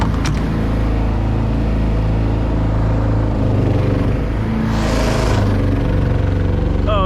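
A small outboard motor on a boat hums steadily and loudly at idle, a continuous low drone with a brief swell of hiss midway, and no voices.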